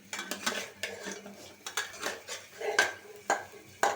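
Spatula scraping and clanking against a cooking pot while stirring fish in a thin curry with new potatoes and beans, a run of irregular metallic knocks and scrapes close by, with no talk.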